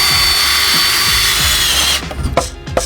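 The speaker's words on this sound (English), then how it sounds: "Now I can drill." A power drill with a 1/4 inch bit bores a pilot hole into wood, a loud steady whine for about two seconds that then stops, followed by a few short knocks and handling sounds.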